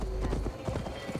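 Horse hooves clip-clopping at a steady riding gait through an untamed forest in the game Assassin's Creed Valhalla, a continuous rhythmic patter of hoofbeats close by with low rumbling underneath.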